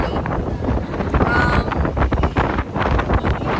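Steady wind buffets the microphone, a loud continuous rumbling roar with gusty surges throughout and no clear voices.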